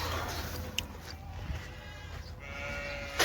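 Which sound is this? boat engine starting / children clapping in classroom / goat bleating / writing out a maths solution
goat bleating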